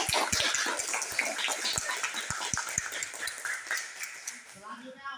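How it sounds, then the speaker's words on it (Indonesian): A classroom group claps in applause for the visual group, a dense burst of hand claps with running water-like hiss, tapering off near the end as a voice begins to speak. "Ya, tepuk tangan dulu untuk kelompok visual."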